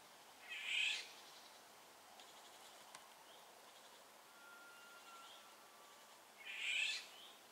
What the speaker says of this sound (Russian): Птичка странная какая-то